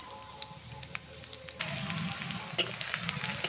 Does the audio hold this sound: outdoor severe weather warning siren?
no